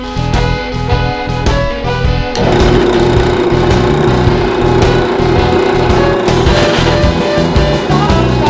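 A loud power drill with a countersink bit whines and buzzes continuously, its pitch shifting as it bites in, close up with no talking.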